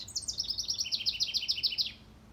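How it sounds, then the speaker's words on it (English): A small house wren sings a rapid, bubbling trill of a dozen quick high notes, fairly faint, ending abruptly. "He's a common house wren"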